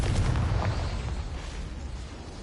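A Confringo spell explosion in Hogwarts Legacy, a loud fiery boom and rumble that starts at once and slowly fades over a couple of seconds, with no talking.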